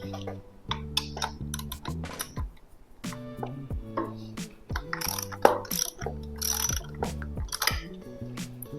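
A ratchet clicks in quick bursts while removing an acorn nut from the clutch lever of a Harley-Davidson Softail Street Bob, with brief pauses between strokes and a few metallic taps and handling noises.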